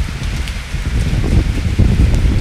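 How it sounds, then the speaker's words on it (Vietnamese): Rain falls outside near a moored barge, a steady close patter of drops on surfaces with low rumbling wind underneath and no voices. "ở bên ngoài thì trời đã mưa rồi nha"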